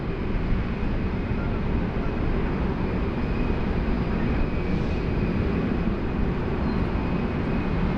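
An airliner departing Sydney Airport gives off a loud, steady broadband roar of jet engines, continuous and unbroken, with no voices.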